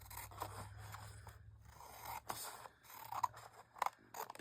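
Scissors cut paper for a handmade envelope journal, a close series of crisp snips and scraping slides that grows busier toward the end, with no talking.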